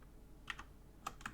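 Keys on a computer keyboard are pressed while shift and greater-than are used in 3D modeling software: four sharp, quiet clicks in two pairs, alone over a low background hum.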